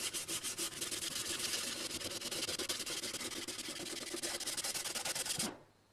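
A wooden guitar back being hand sanded with coarse 60-grit paper, giving fast, rhythmic, close rasping strokes that continue steadily for several seconds and then stop abruptly.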